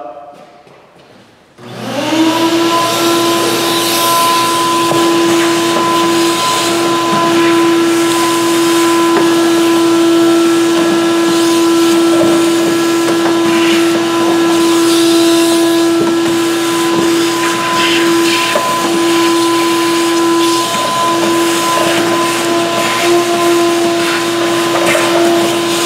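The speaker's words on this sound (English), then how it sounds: "So I'm just going to vacuum this out a little bit." Shop vac switching on with a sudden whine and running steadily at close range, a loud constant suction roar with a sustained tonal hum, used while cleaning around a Honda Ridgeline fuel pump.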